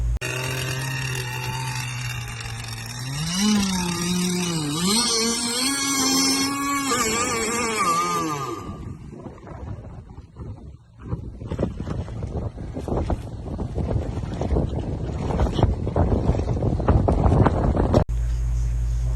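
An outboard boat engine revs and whines with rising and falling pitch, then gives way to choppy wind and water noise.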